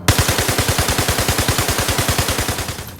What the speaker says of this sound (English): actually shoot your ship so you can see the actual damage being done to the ship from your weapon